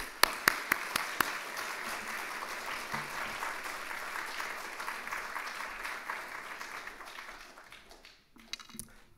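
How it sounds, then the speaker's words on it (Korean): A church congregation at a New Jersey revival service applauds to welcome a missionary, with a few sharp claps at first, then steady, moderately quiet applause that fades toward the end. "우리 크게 박수로 환영하도록 하겠습니다"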